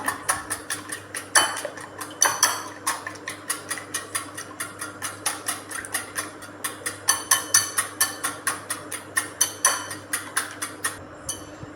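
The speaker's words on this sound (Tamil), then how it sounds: "இந்த விஸ்கு வச்சு நல்லா நல்லா பீட் பண்ணணும்" Pudding mixture beaten with a whisk in a bowl at home, a long run of quick, regular metallic clicks and taps, close and fairly loud, in steady rhythmic bursts with no talking.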